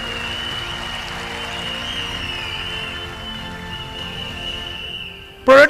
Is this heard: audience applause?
yes